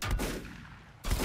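Gunfire in the Volcanoids video game, two sharp loud bursts of shots separated by a short quieter gap, close and alone without talk.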